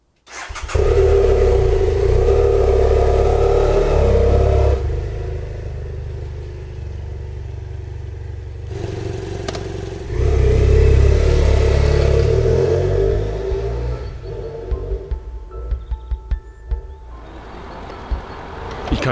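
A vehicle engine starts and revs loudly nearby, then pulls away with rising and falling revs as it drives off, the engine note fading and sputtering toward the end, no voices.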